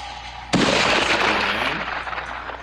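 A hunter's rifle shot at an African buffalo: one sudden, loud crack followed by a long, rumbling decay that fades slowly across the rest of the moment.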